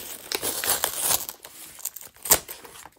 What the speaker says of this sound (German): Wir machen ganz schnell mal unseren Aufkleber ab.